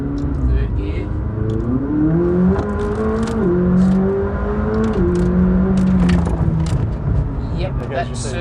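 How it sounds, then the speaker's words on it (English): A McLaren 600LT in track mode accelerates hard in third gear, its engine note rising loud and close, then dropping sharply at each of several gear shifts before climbing again. "You can hear the difference with the gear shifts."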